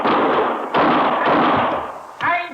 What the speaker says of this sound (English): Start shooting, Chester.